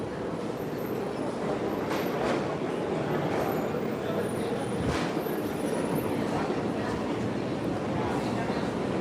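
A Bombardier-built Walt Disney World monorail train runs with a steady, dense rumble and whoosh heard from inside the car, with faint voices in the background.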